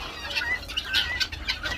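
Chickens on a farm cluck and chatter in a steady cluster of short, bright calls with some wing flapping, fairly close and continuous, with no talking.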